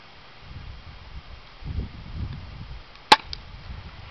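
An SP2022 airsoft pistol fires a single sharp crack at a tissue box amid faint rustling background noise.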